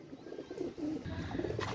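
A red-eyed Golden Nor pigeon coos quietly and steadily in low, rolling murmurs, with no voices over it.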